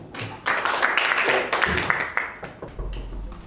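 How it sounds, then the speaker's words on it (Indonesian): Audience applause in a classroom setting, a short round of scattered clapping rising and fading over a few seconds. "beri aplaus dulu"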